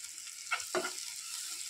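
Chopped onion, tomato and green chilli frying in a pan are stirred, giving two brief scraping bursts over a steady low sizzle.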